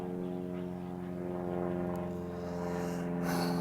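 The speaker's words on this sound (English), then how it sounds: "all these damn planes today" A propeller airplane drones overhead, a steady low hum with sustained engine tones that swell slightly as it passes, faint and distant with no one talking.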